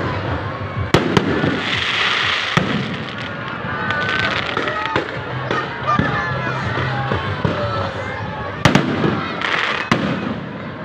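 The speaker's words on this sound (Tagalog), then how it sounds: "ang sinasabi may pa-fireworks ang MOA ay talaga naman pag sa ganda eh" Fireworks display at MOA (Mall of Asia), with loud sharp bangs near the start and again near the end over a continuous crackling, sizzling roar and crowd noise.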